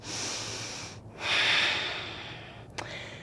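Deep, steady breaths drawn during a supported yoga side plank with the bottom knee down, soft airy inhales and exhales rising and falling up close, with a stronger breath in the middle and a brief sharp sniff near the end.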